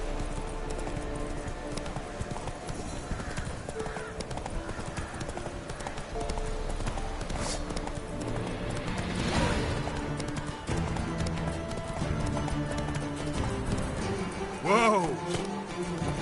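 Geralt's horse Roach galloping in Witcher 3, with rapid, rhythmic clip-clop hoofbeats throughout, a whinny near the end, and game music and ambience underneath.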